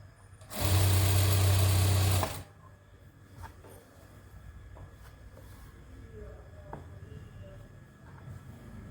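A sewing machine stitches a lined salwar in one loud, steady whirring burst of about two seconds, then stops, leaving quiet room background with faint handling sounds.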